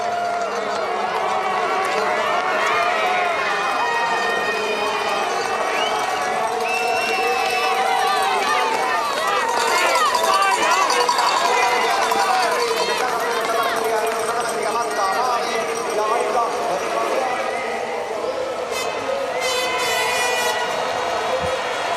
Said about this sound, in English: Järvi getting a big cheer as well